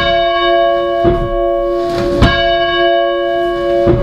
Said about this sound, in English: One of the features that we have the original church bell upstairs in the steeple